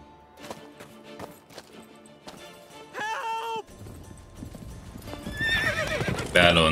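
A horse in The Witcher 3 video game clip-clops in a quick galloping rhythm and lets out a loud neigh, with hoofbeats and crashing game sounds building louder at the end.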